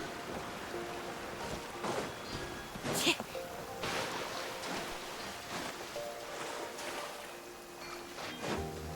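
Rain patters steadily in the fantasy game Genshin Impact, a soft continuous hiss of drops with a few sharper splashes. Game voices and small sound effects come through faintly over the downpour.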